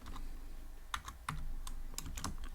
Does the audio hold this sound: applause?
no